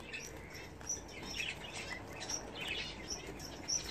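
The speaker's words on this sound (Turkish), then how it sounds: "Muhabbet kuşu Mavi'nin ve Cafer'in bebeklerini göstermek istedim size." Budgerigar chicks give faint, scattered high chirps and tweets over a soft, steady background hiss.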